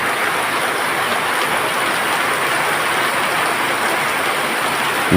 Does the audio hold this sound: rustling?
no